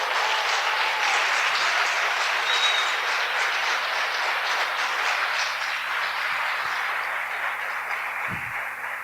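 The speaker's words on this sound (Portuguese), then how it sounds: "Aplauda esse Deus poderoso." A church congregation applauding: loud, sustained clapping from many hands that fills the space evenly for several seconds, with a faint low hum beneath and a few soft thumps near the end.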